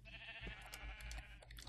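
Minecraft sheep bleat softly in the game, a short, faint, wavering cry heard alone.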